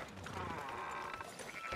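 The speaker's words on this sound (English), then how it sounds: "Fine sheep." Sheep bleat in Red Dead Redemption 2, a short wavering bleat close by with soft farmyard noise and faint hoof sounds around it.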